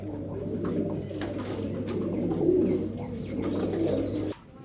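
Several pigeons coo in a continuous low, layered chorus up close, with bird chatter running steadily throughout at a pigeon seller's loft holding good-quality breeds, including a white German Beauty pair, before dropping away at the end.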